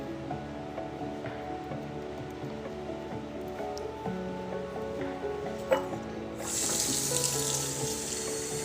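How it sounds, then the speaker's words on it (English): Tap water runs steadily into a container at a sink, a continuous close gush whose tone shifts as it fills, ending in a brighter, louder rush of spray. "I'm gonna fill this up with water and take it outside with me."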